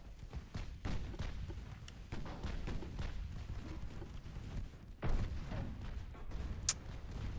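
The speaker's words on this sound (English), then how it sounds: "we can use virtually every gun on the ship" Naval guns fire from a battleship in Ultimate Admiral Dreadnoughts during a 1940 German campaign battle. Distant, muffled booms roll one after another over a low rumbling background.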